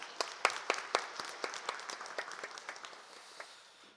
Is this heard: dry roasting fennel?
no